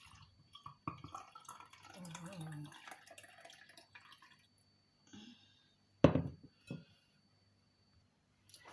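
Homemade rocket leaf remedy drink is poured into a glass, giving a short liquid splash and clink near the end, with speech earlier and quiet pauses between.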